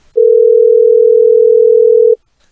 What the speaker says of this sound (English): Is that what happens when a phone is off the hook?